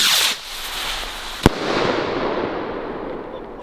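Fireworks set off outdoors on a rainy evening: a fading crackling hiss, then a single sharp bang and a long rushing, sizzling tail, fairly loud and without talk.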